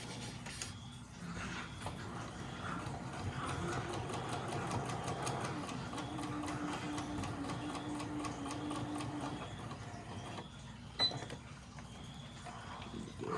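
A sewing machine stitches a strap, its needle chattering in a fast, steady run of clicks for most of the stretch, pausing near the end with a sharp mechanical clack.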